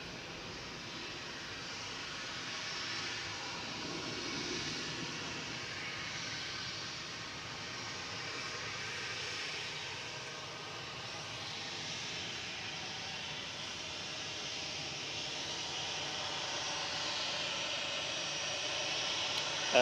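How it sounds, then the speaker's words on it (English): An Airbus A380 jet airliner departs Manchester Airport, its engines a faint, distant, steady roar and hiss that swells gently and holds for about twenty seconds with no voices. "see people enjoying that A380 departure with the blue sky behind"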